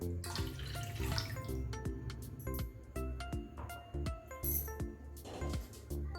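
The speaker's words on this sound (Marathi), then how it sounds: "बाऊलमध्ये दूध ओतून घ्यायचं आहे आपल्याला एक ग्लास मी दूध यामध्ये ओतून घेणार आहे" Half a glass of milk poured from a glass into a bowl, giving a close, bubbly splashing and trickling that rises and falls in short surges over a few seconds.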